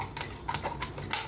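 A kitchen knife slices farm-grown brinjal lengthwise, producing a quick series of four or five crisp, sharp cuts close by at an uneven rhythm, with no voice.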